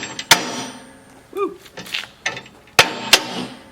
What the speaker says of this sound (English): take the hammer down and just tap the top of that